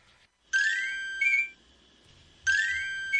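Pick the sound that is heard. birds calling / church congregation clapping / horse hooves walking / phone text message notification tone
phone text message notification tone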